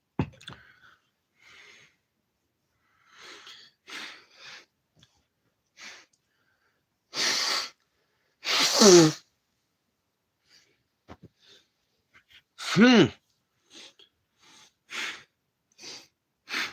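A couple of sharp, explosive sneezes stand out amid quiet breaths and sniffs, loud and close, with stretches of near silence between them.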